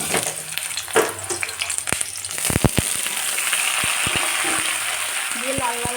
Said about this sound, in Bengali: তেলটা আমার গরম হয়ে গেছে তেলের মধ্যে আমি এঁচড়গুলো দিয়ে দিচ্ছি